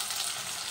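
Tomatoes salted and frying in a pan, a steady close sizzle that holds evenly without pause.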